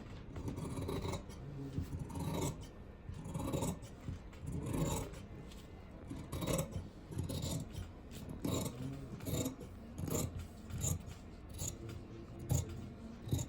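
Scissors cut through churidar pant fabric in a quiet, steady rhythm of crisp snips and rubbing, recorded up close with no voices.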